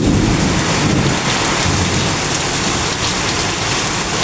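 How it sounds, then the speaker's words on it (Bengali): Heavy downpour on an afternoon after a long dry spell, with dense rain hammering steadily and loudly on surfaces close by and a deep rumble of thunder mixed into the wash of water. "দেখুন আমাদের এখানে কি পরিমাণে বৃষ্টি হতেছে।"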